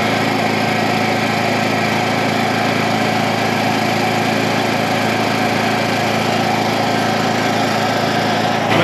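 An engine-driven welder runs out in the field during a mobile repair of a broken tractor bucket hook, giving a loud, steady, close engine drone with no change in pitch throughout.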